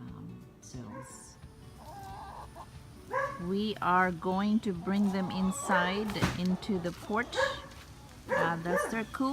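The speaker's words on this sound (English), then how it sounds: "Yeah, that's our neighbor's dog," A neighbor's dog barking at a Florida home during hurricane preparation, repeated loud yelping barks in a rapid series heard under and between a person talking nearby.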